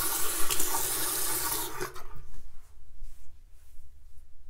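Running water splashing as hair is wet under a tap, loud gushing for about two seconds, then stopping and leaving quiet drips and small handling noises.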